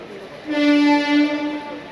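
At Kollam Junction railway station, a train's horn sounds from the platform as one steady, sustained tonal blast of about a second and a half, fairly close and clear over low ambient noise.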